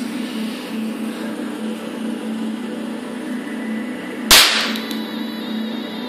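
A gasifier ignition torch fires with a hydrogen explosion, a single sharp, loud bang that cuts through a steady background hum and ends quickly.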